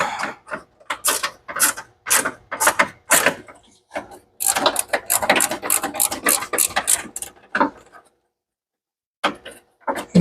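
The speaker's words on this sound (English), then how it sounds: "Looks like it's unscrewing just fine." A quarter-inch bolt is worked loose with a ratcheting tool on a budget turbo car's header, rapid close clicking in bursts with brief pauses and a gap of quiet near the end.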